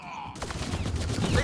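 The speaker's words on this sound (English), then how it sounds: "They shot him!" Gunfire in a sci-fi firefight in Mass Effect Andromeda, a rapid burst of several shots rattling out over about a second amid other game sounds.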